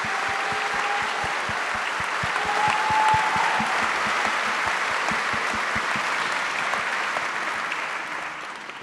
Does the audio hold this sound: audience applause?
yes